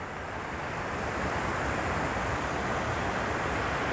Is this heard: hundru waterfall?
yes